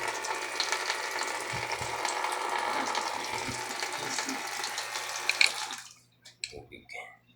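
Liquid pours in a steady rush from a multi-pump dispenser for about six seconds, then stops abruptly, followed by a few soft knocks and drips.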